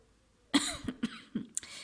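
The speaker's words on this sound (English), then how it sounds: "I'm coughing a little bit" Several close coughs in quick succession, loud and raspy, with a brief pause between bursts.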